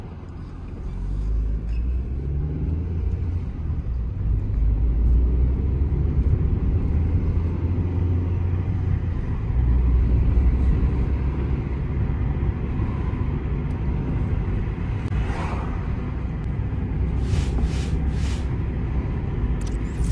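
A car pulls away in first gear, its engine a steady low drone that holds for the whole stretch, with a few faint clicks and rattles near the end and no talk.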